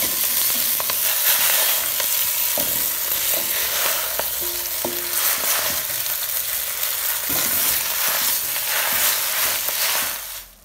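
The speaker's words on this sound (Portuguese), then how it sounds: "vou refogar o espinafre" Spinach sautéed in olive oil with garlic in a pan, a loud steady sizzle broken by repeated scraping and stirring strokes, fading out at the end.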